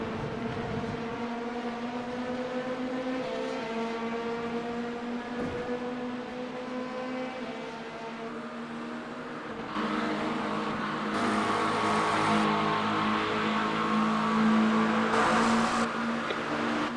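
Ferrari 296 GT3 racing car engine in a racing simulator, a steady loud droning rev with rising harmonic sweeps, climbing to a higher, louder scream in the second half as it accelerates.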